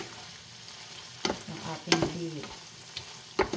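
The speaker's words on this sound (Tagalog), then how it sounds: "Haluin muna natin ng konti yung slurry natin." A pan of garlic pepper beef being stirred with slurry, giving a series of scraping, clattering spoon strokes at irregular intervals over a low, steady sizzle, with a brief spoken word.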